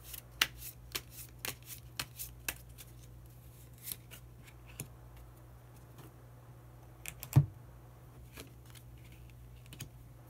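Tarot cards handled at close range: soft, quiet riffling and sliding with scattered crisp snaps and taps across the stretch, one sharper slap near the end, no talk.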